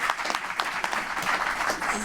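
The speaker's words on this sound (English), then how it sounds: "Vicki has earned a much bigger round of applause than that." Audience applause at an evening event honoring a woman named Vicki, a steady patter of clapping over two seconds with some voices mixed in.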